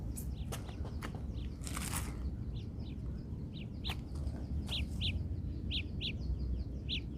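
Repeated short, high-pitched locator chirps from Samsung Galaxy Buds wireless earbuds sound at a steady rhythm over a constant low rumble of background noise, faint and fairly close.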